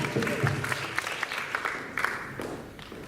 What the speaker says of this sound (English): Let's give a round of applause for Soumya Shankar.